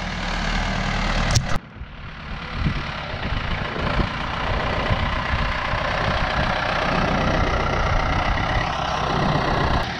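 A Ford 7600 tractor engine idles with a steady, low rumble, with a brief knock or clatter near the start; no voices.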